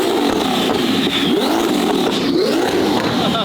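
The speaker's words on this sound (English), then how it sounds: "I really shouldn't be revving this car right now." A crashed, rare turbocharged Lamborghini revs hard inside an auto body shop, a loud, close, continuous engine roar that rises and falls in pitch without a break.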